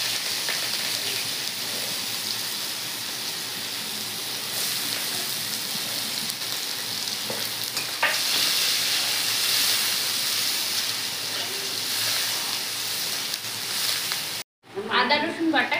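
Chopped onion hits hot oil with cinnamon, cardamom, cloves and whole cumin, throwing out a loud, continuous sizzle and crackle close by. The sound briefly cuts out near the end before the sizzling resumes.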